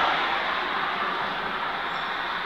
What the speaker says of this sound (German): da drüben fährt die U-Bahn.